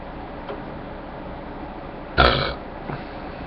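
A person lets out a single loud, gravelly burp after drinking a hoppy beer; it is close and brief, rising sharply and trailing off, set against a quiet room with faint ticking.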